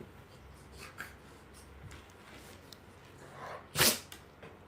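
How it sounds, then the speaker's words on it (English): A single short, sharp sneeze bursts out near the end after quiet rustling and small clicks. "What are you sneezing for"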